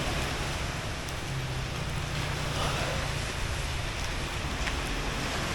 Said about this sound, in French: il y a ça, le bruit des vagues